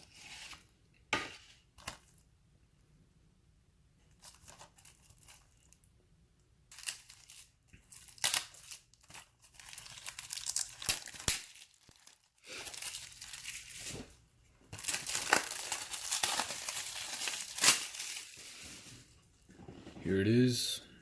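Thin plastic shrink-wrap is torn and crumpled off a two-disc 4K Blu-ray case: bursts of crinkling and ripping come and go, with quiet gaps between them and a busier stretch near the end, and a person speaks softly at points.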